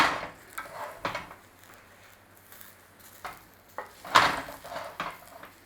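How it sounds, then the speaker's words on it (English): Mushroom and halloumi burgers flipped in a pan, heard as a few sharp scraping clacks of a spatula against the pan, with quiet sizzling between them and no talk. "So let's have these flipped and then we're going to flip them back again."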